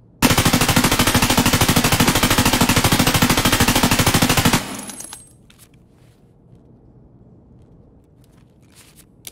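Rapid automatic M4 rifle fire with a laser sight in Escape From Tarkov, a loud sustained burst of about four seconds, then quiet room tone with a few faint clicks.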